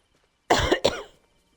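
A person coughs twice in quick succession, close and fairly loud, with a short gap between the two bursts in otherwise quiet surroundings.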